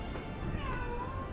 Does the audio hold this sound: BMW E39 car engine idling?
no